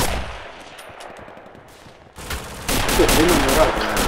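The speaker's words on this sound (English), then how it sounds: "Getting shot at." Gunfire in the WWII shooter Red Orchestra, with bursts of rifle and machine-gun shots cracking through a noisy battlefield that grows louder and denser partway through, with a voice heard faintly underneath.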